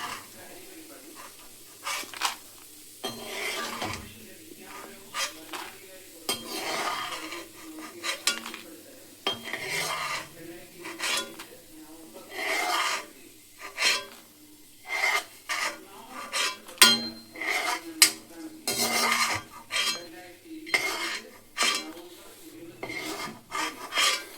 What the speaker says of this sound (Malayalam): നേരത്തെ പൊട്ടുകടല വറുത്ത പോലെ തന്നെ കപ്പലണ്ടിയും വറക്കുന്നു അല്ലേ?